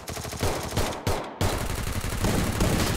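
Rapid automatic gunfire in the Free Fire battle royale game, loud dense bursts with a brief pause, then continuous shooting until the end, with no talk over it.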